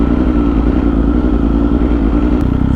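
A group of motorcycles rides together on a road near Batulao and Nasugbu, giving a steady, loud, close engine drone with no pauses.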